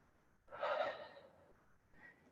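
One deep, forceful exhalation during a lying-down exercise workout, close to the microphone and quiet overall, with a softer breath following about a second later.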